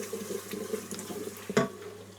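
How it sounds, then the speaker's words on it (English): Hot kettle water is poured into a pan of cooking spices and onion, giving a soft watery trickle and gentle stirring, with a brief louder splash near the end. "I'm going to add a tiny bit of kettle hot water, no tap hot water, no cold water, just tiny bit kettle hot water."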